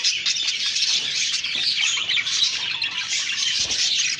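Pet birds in a new aviary cage keep up dense, bright chirping and twittering, a busy overlapping chatter heard close and fairly loud throughout.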